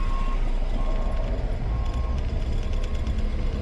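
A dump truck reverses during night road repaving, its backup alarm repeating a steady beep over a loud, continuous rumble of engines and heavy machinery.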